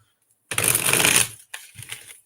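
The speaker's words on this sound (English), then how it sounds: "One more shuffle." A deck of cards is riffle-shuffled close up in a live reading, giving a dense, crisp fluttering burst for about a second, then a short pause and a lighter second riffle.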